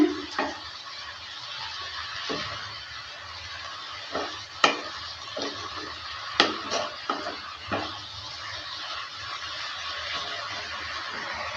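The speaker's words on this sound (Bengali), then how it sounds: "লবণটা দেওয়ার পর ভালো করে আবারও নেড়ে নিচ্ছে" Mustard greens with salt are stirred in a frying pan, a soft low sizzle broken by scattered scrapes and sharp clinks of the spatula against the pan.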